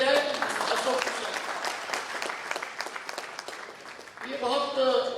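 An audience at the Bihar Convention 2022 applauds in welcome of Ashok Mishra of Hindustan Times, with steady clapping filling the hall and a voice speaking over it near the start and end.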